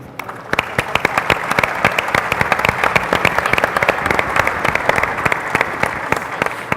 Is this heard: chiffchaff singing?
no